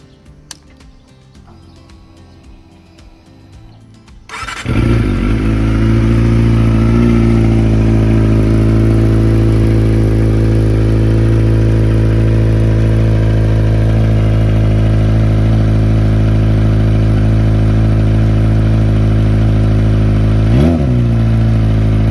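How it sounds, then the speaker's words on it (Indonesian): A Kawasaki Ninja ZX25R fitted with an Akrapovic exhaust fires up after a quiet start and settles into a loud, close, raspy idle, with one brief blip of the throttle near the end and no talking. "suaranya si Akrapovic kalau mau denger ya kayak begini"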